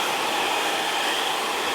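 A hair dryer blows a steady, close, even whoosh while drying a man's short hair after a barbershop cut, with no talk over it.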